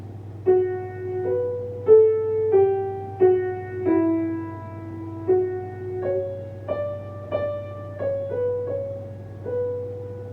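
A slow, solemn Passion chorale hymn melody played note by note on a soft organ-like tone over a low steady drone, each note sustained and gently fading.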